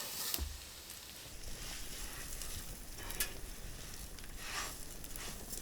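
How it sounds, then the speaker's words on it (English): Rice sizzles and fries in melted butter in a pan for risotto at a winter campsite, a steady close crackling hiss with occasional stirring scrapes and soft thumps. "I'm gonna add the rice"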